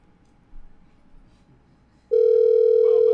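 A telephone line tone, a steady beep that starts suddenly partway in and holds loud to the end, preceded by faint background noise and light clicks.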